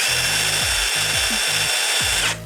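An Ubermann 18V impact driver (UB18VIDⅡ) spins freely and continuously with auto-stop switched off, a steady high motor whine close by with faint periodic thumps underneath, cutting off abruptly at the end.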